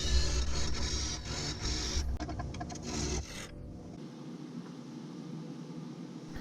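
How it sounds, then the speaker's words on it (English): Gouge and skew cutting the tenon of an elm wood bowl on a lathe, a continuous close rasping shave with faint rhythmic pulsing that stops abruptly partway, leaving a quieter low whir. "I define it with my gouge, and then I refine it with my skew."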